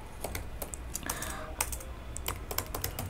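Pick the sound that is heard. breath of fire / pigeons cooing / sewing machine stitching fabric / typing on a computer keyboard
typing on a computer keyboard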